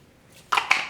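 Two short, sharp bursts of aerosol brake cleaner spraying, close by, separated by a brief pause, over a quiet background.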